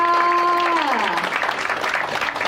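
Guests at a Thai engagement ceremony clap together after the bride price is carried away, a brief dense burst of applause with a voice trailing off at its start.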